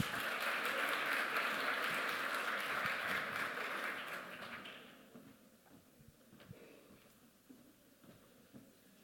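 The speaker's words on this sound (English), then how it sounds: "Round of applause." An audience at a pitch contest applauds, loud sustained clapping for about four seconds that fades out into quiet room sounds and a few scattered claps.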